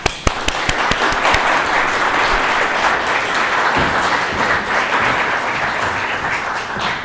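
Audience applause greets a university lecturer, Professor Toril Moi, as she comes to speak: dense, steady clapping from a full room that opens with a few sharp claps and holds strong for about seven seconds without talk.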